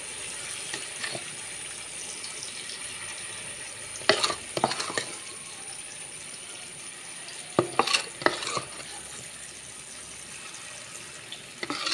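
Steady hot sizzling hiss of appam batter hitting a pan, with a few sharp clinks and scrapes of utensils at intervals.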